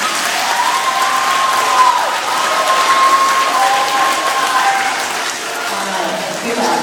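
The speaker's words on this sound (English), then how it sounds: "give yourselves a round of applause" Steady applause from a large group, sustained clapping throughout with a faint tonal whine running through the middle.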